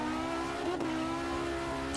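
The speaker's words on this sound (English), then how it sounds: "Just hearing the engine just buzz the limiter." A Group B rally car's engine buzzes against the rev limiter while lapping the Nordschleife, a steady high-pitched droning strain with a brief blip partway through.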